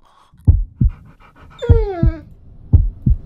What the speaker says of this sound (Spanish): ¡Es un perrito guau guau!